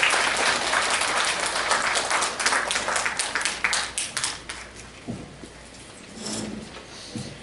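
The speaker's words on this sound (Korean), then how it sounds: "뜨거운 박수 부탁드리겠습니다" A lecture-hall audience at a university admissions briefing claps warmly for an arriving speaker, a dense burst of applause that tapers off over several seconds, leaving scattered claps and faint room noise.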